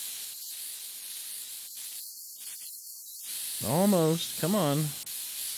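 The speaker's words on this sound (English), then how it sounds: "I'm going to grab some compressed air. Get this sucker dusted out." Compressed air blasts dust out of a desktop computer in short broadband hissing bursts, two longer sprays in the middle, followed by someone speaking briefly up close.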